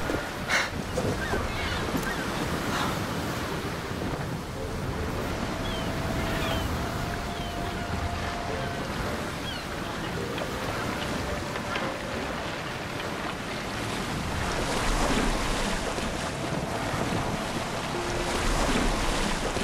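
Steady rush of water and wind around a moving boat in the video game Assassin's Creed Odyssey, with waves splashing against the hull and a constant low engine-like drone.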